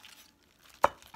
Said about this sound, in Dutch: I-cut nyo ng maliliit.